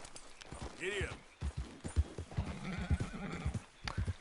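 Hoofbeats and a neigh from a horse in a cowboy video game, a whinny near the start followed by rhythmic clopping strides, with someone speaking softly over them.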